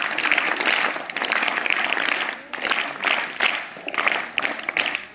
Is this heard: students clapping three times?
yes